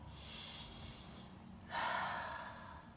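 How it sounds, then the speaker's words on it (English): One deep, quiet breath taken during mindfulness practice, a soft airy inhale followed by a slightly louder exhale, close by and alone. "try and breathe"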